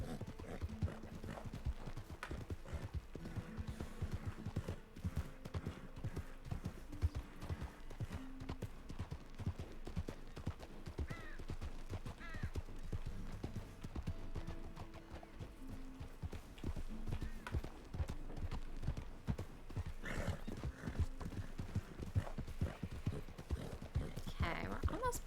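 Horse hooves clip-clop in a steady rhythm in a video game, moderately close and fairly quiet, with occasional faint neighs and a low musical bed.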